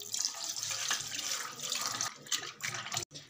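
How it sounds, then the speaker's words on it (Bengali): Running tap water splashing as mutton liver is washed under it, a close, steady rushing flow that cuts off abruptly near the end. "এবার কলিজাটা ভালোভাবে ধুয়ে নেব।"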